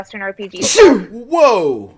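A sharp, loud sneeze bursts out close to the microphone in the middle of casual podcast talk, with people speaking just before and after it.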